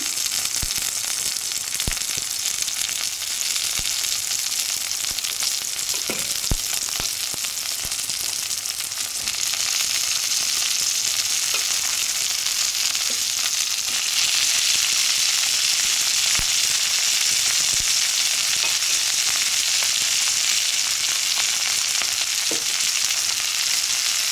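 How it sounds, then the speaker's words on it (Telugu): Capsicum pieces and green chillies fry with egg in a hot pan, giving a steady, fairly loud sizzle and crackle that runs unbroken throughout with no voices. "నెక్స్ట్ క్యాప్సికమ్ ముక్కలు అనేది వేసేసుకుందాం. అలాగే ఒక 4 పచ్చిమిర్చి అండి."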